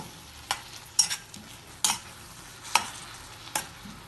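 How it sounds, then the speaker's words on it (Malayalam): A spoon stirs a thick mixture of jackfruit, jaggery and grated coconut roasting in a pan, giving five or six sharp scraping knocks against the pan at irregular intervals over a faint, steady sizzle. "ഇതിനി ഇളക്കി കുറച്ചമ്മ വരട്ടിയെടുക്കാം."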